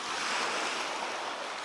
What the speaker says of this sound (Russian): Волна немного поднимается